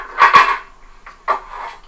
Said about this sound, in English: when this lid is placed on,